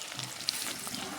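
Green chillies hiss and sizzle in hot oil for a brief moment, a soft continuous frying sound with a single sharper pop and faint stirring.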